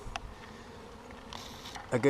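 Bees buzzing around a swarm just shaken from a tree branch, a faint low drone close by with occasional louder passes and a voice speaking over it.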